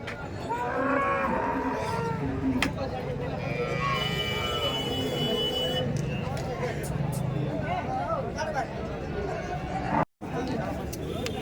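Cows moo repeatedly, some close and some farther off, at a busy farmers' cattle market in Chalisgaon, under steady crowd chatter and nearby voices.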